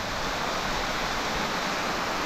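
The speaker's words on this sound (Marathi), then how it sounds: "हा दुसऱ्या बाजूचा धबधबा आहे." Steady, close roar of a waterfall at Bedse, Maval, Maharashtra: a thick, even hiss of cascading water filling the whole short span, without talk.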